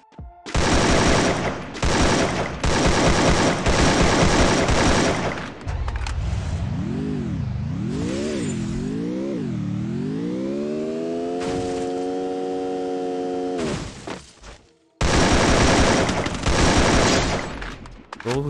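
Rapid AK rifle fire in a video game, several long automatic bursts at the start and again at the end, loud and close, separated by a stretch of tonal game sound with rising and falling pitch.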